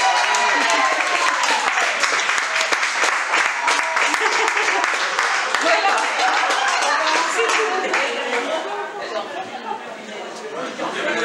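Dense, sustained applause from an indoor audience at a commercial festival event, steady clapping filling the room for several seconds with light crowd chatter mixed in.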